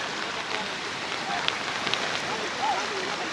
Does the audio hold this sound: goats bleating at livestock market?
no